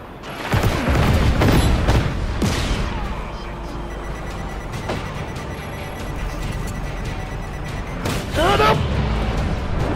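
Missile blasts in the open-world game Just Cause 3, heavy booms and rumbling explosions with gunfire-like cracks, loud and layered, under excited voices talking.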